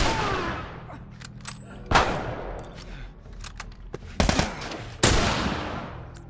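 Rifle gunshots in The Last of Us, several loud sharp blasts spaced a second or two apart, each trailing off in a long echoing decay, with no talk over them.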